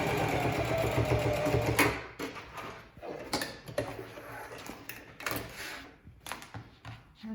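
A sewing machine stitches the fins of a whale stuffie about half an inch from the edge, running in a fast close whir for two seconds, then in shorter bursts with pauses and mechanical clicks.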